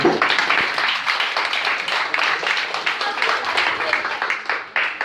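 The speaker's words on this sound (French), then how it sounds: "On peut l'applaudir quand même." Audience at a campsite hypnosis show applauds steadily for about five seconds, dense and fairly close clapping throughout, with faint voices mixed in.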